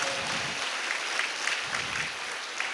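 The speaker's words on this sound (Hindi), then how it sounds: "एक बार सब एक दूसरे के लिए पुनः तालियों की गड़गड़ाहट कर" An audience at a spiritual satsang gathering on the bank of the Son river claps together, a sustained, fairly close wash of applause with slight swells and no voices over it.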